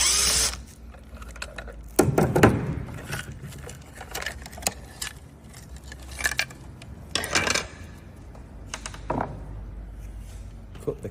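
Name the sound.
unscrewing the lid of a Polar Air control box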